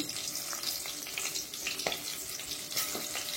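Cumin and chili crackle and sizzle in hot oil for sabudana khichdi, a close, steady frying hiss with scattered pops and faint stirring.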